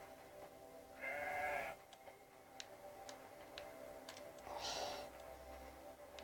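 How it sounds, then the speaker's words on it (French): A black sheep in a video game bleats twice, each cry short and clear, with faint ticking clicks scattered between over a quiet background. "Et scanner ce mouton noir une bonne fois pour toutes."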